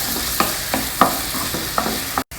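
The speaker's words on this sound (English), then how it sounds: "We'll fry it till the onions are well browned" Chopped onions and ginger frying in a pan, a steady close sizzle broken by regular scraping stir strokes about every third of a second.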